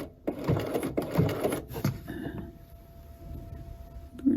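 A home sewing machine stitches a buttonhole bar, giving a close, steady mechanical whirr in rapid bursts that stop and restart, followed by a quieter pause and a final click.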